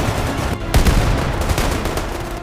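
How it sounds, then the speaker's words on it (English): Soldiers firing on a position: a dense, loud, continuous wash of gunfire with overlapping shots and a sharper blast partway through. "Keep firing on that position."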